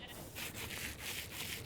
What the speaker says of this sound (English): get our sandpaper so we can start shaving down this